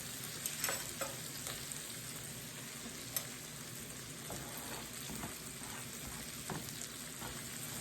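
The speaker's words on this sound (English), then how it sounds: "I'm going to go ahead now and add in my garlic" Garlic frying in a pan for shrimp and grits gives off a steady, faint crackling sizzle with occasional soft stirring clicks, heard alone with no talking.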